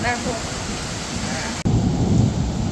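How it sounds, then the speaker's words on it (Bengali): Heavy rain during the first Baishakh storm in Kolkata, a dense steady hiss of falling water with a deep low rumble of thunder rolling underneath, close and loud, broken by a momentary cut. "বহুদিনের প্রতীক্ষার পর আজকের এই বৃষ্টি"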